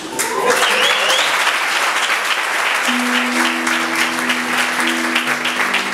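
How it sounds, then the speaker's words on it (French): A comedy show audience in Uvira claps continuously, a dense, sustained wash of applause with a few whistles, steady in loudness throughout. "applaudissez pour monsieur qui prend des lunettes"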